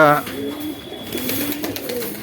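Pigeons cooing in a loft with a tin roof, low soft repeated coos running steadily throughout, with a voice near the start.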